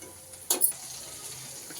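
Ginger garlic paste goes into hot oil with onion for pav bhaji, giving one brief sharp sizzle burst before a low, quiet frying hiss.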